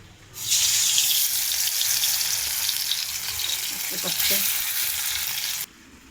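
A sudden loud hiss as fish hits hot oil, then sustained close sizzling for several seconds before it cuts off abruptly.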